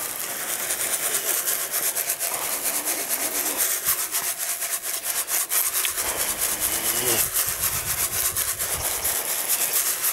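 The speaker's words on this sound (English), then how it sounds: "So I'll rub it up the ribs because it can take off the chaffy stuff" Seed heads rubbed by hand against a ribbed surface to strip off chaff, a continuous rasping scrape with repeated back-and-forth strokes, close and fairly loud, with a short stretch of talk partway through.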